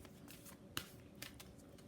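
Tarot cards being shuffled by hand, a soft continuous riffling and rustling close by, with a couple of sharper card snaps, no talking.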